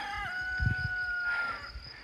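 Roaming cockerels crow in a rural village with sheep on a walking route in the French countryside, two long tonal calls sustained over low rustling and distant background noise.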